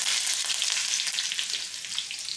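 Mustard seeds, dried chili and curry leaves crackle and sizzle steadily in hot oil for a Marathi-style tadka over khandvi, a dense, bright frying hiss with scattered pops and no voices.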